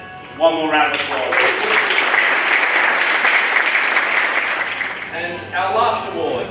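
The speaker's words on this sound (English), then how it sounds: "One more round of applause." A crowd at an awards presentation bursts into loud, sustained applause for several seconds, with a voice speaking over it at the start and as it fades.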